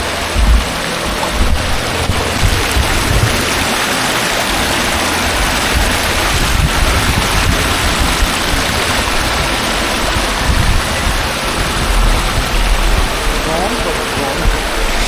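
A waterfall at a coffee plantation in Chikmagalur gives a loud, constant rushing roar of falling water, thick in the low end and unbroken for the whole stretch.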